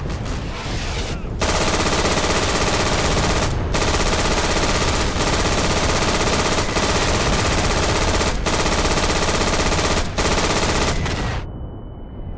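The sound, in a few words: MG42 machine gun firing in video game Day of Infamy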